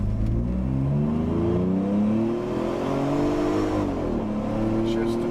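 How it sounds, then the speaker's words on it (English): A car on a dyno accelerates at half throttle under automatic transmission control. The engine note climbs steadily, drops back at each gear change, then climbs again, loud and close with no talk. "So I'm going to go about half throttle."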